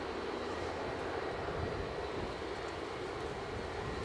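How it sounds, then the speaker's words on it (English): A Cessna 525 Citation II business jet at Edinburgh airport produces a steady, moderately loud broadband engine roar that stays constant throughout, with no talk. "Cessna 525 citation 2"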